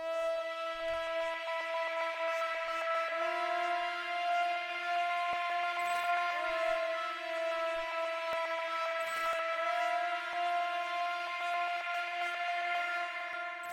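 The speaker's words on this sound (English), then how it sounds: "After that, I added this. I think it's a pad." A huge, expansive synth pad layered into a hard beat sustains thick harmonic chords steadily across the whole stretch, loud and continuous with no voices over it.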